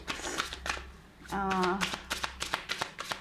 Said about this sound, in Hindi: मैं एक और कार्ड्स निकाल देती हूँ, देखते हैं आपके लिए और क्या आ रहा है